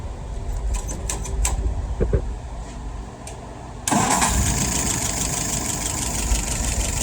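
A WO 636S engine cranks with a few faint knocks, then fires and settles into a loud, steady running drone that continues to the end.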